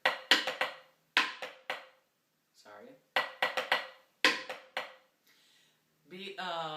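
Crisp snare drum cadence strokes in short bursts, sharp accented hits and a rim shot between pauses, with someone talking briefly in the gaps.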